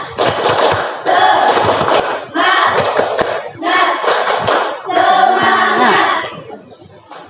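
A school group at SMA Negeri 2 Negeri Katon performs a rhythmic spirit clap, loud bursts of patterned clapping and chanting voices in several phrases separated by short pauses.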